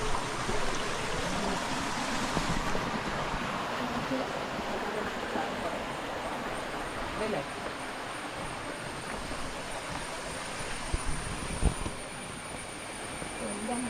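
Stream water at Kochareekkal Caves spilling down into a pool, a steady broadband rush and trickle heard close by and continuous, with faint background voices.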